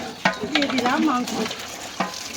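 Fried meat tipped into a pot in a village kitchen and stirred, with scraping clatters and a soft sizzle under a voice speaking over it.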